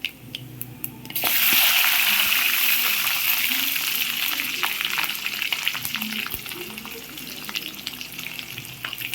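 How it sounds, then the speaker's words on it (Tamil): Ginger and garlic hitting hot oil in a pan, a sudden loud sizzle that bursts in after a quiet second and holds as a steady bright crackle, with faint clinks. "இது பொரிஞ்சோடையும் இஞ்சி பூண்டு எடுத்து வச்சிருக்கிற இஞ்சி பூண்டையும் போட்டுருவாங்க."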